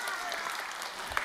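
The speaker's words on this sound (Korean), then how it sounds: "박수 쳐주세요" A church congregation claps briefly during a Sunday worship service, a short burst of applause for a small child that stays fairly soft and steady, with a faint voice underneath.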